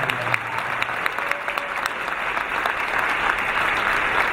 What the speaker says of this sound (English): let's give another round of applause to the new councilman